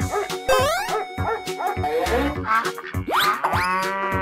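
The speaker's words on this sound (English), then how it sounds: "Dog." A cartoon dog barks in several quick yips mixed with bouncy, springy effects and a whimpering note, loud and close with playful musical accents alongside.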